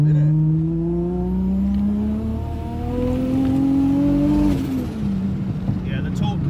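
A turbocharged car with high boost accelerates hard, its engine note climbing steadily through the gears with a strong droning rise, heard from inside while people talk over it.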